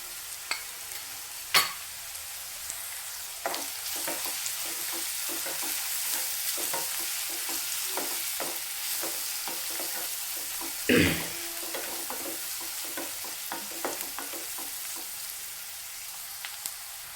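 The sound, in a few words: onions frying in a pan for chicken buttermilk curry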